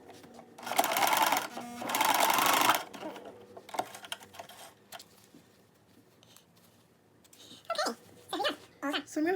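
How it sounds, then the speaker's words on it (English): A sewing machine stitches just beneath the waistband of a pair of pants, two loud steady runs of rapid stitching near the start, followed by quieter handling and someone talking. "I'm just going to go ahead and sew that just underneath that waistband"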